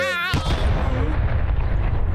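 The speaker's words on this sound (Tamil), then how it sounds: "அந்த கப்பு வெடிச்சிருச்சு" A sudden cartoonish burst of an exploding cup lands after a short rising whistle-like tone, followed by a rumbling, crackling tail, with voices chattering over the noise.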